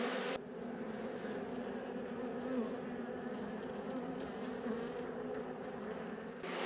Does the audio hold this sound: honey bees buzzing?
yes